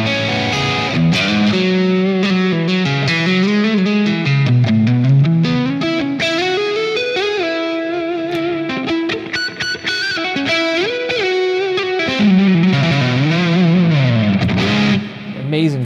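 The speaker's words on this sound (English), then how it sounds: "I have a couple of more stripped back sort of tones on my low gain bank here" Electric guitar through a low gain amp preset from the McRocklin Suite, played as a continuous melodic passage of sustained notes and chords with light grit and chorus shimmer, loud and close with no talking.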